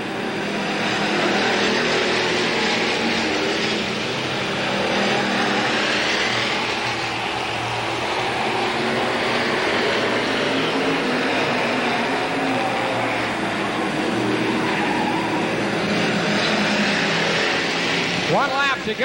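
Sportsman race cars circle Capital Speedway in 1985, a steady loud engine roar that swells and fades as the pack passes, with an announcer talking over the noise throughout.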